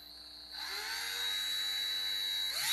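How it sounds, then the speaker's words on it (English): A power drill whines at high speed while securing the back panel of a wooden bat rack, its steady motor tone rising in pitch after a quiet start and running continuously, close and fairly loud. "then we got to drill. We're going to secure the back panel."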